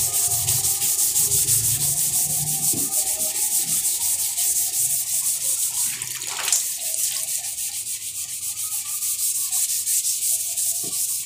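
Steady, continuous abrasive rasping of used sandpaper rubbing over car body filler, a dense scratchy hiss that carries on without pause, close and fairly loud.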